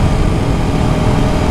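A 2020 KTM 690 Enduro R single-cylinder motorcycle engine running with a big dB killer in the exhaust, a loud, close, steady throbbing rumble with no talk.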